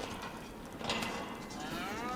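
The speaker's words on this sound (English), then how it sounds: "We're doing dairy cows, and we've got 2 cow barns." Dairy cows mooing inside a barn in the Farming Simulator 25 video game, a moderately loud low call rising mid-clip over a steady farmyard ambience.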